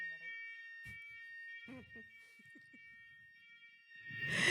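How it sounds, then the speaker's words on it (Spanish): A fire alarm in an apartment sounds continuously as a steady high-pitched electronic tone, held at a moderate level while a person talks over it, with a rustling burst near the end. "la alarma contra incendios se prende por cualquier cojudez"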